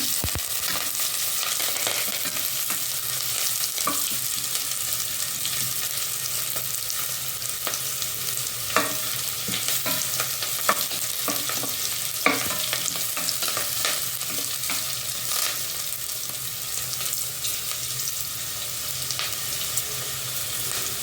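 Telangana-style khichdi ingredients frying in a pan, a steady loud sizzle with occasional stirring scrapes throughout, no voices.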